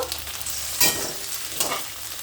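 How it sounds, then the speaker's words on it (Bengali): Potatoes and onions frying in oil in a wok, a steady close sizzle with two brief louder bursts as the pan is stirred, no voices. "দেখো আলু পেঁয়াজগুলো কি সুন্দর ভাজা হয়ে গেছে"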